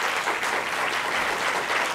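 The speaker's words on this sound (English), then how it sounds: "So a special round of applause for Rahul." Steady, dense applause from a large audience at a public dialogue event, filling the whole stretch at an even level without a break, with no voices standing out above it.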